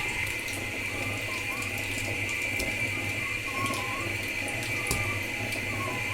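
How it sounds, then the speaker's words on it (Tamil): Urad dal vadas deep-frying in hot oil give a steady, even sizzle that holds at the same level throughout, with small pops and crackles scattered through it. "இந்த உளுந்த வடை வேகுதுங்க"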